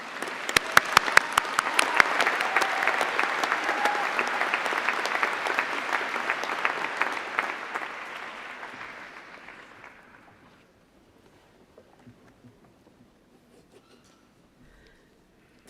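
A hall full of people at a business school graduation ceremony bursts into loud applause for the graduates, a dense clapping roar that thins and fades out to near silence by the end.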